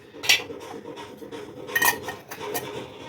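Eggs seasoned with salt, soy sauce and pepper are beaten by hand for chicken nuggets, giving a few scattered clinks and scrapes of a utensil against a bowl, close and moderately loud, with no talking.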